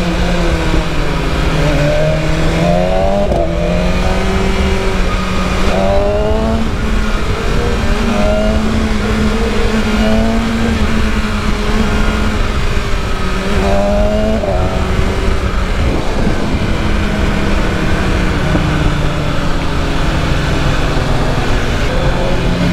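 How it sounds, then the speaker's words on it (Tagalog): A BMW M1000RR superbike revs hard under way, its engine note climbing and falling in repeated sweeping pitch rises through a steady, loud, close roar of riding, with no voices heard. "Grabe gigil ng motor na to."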